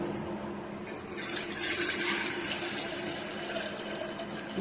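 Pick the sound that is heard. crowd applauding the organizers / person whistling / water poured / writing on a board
water poured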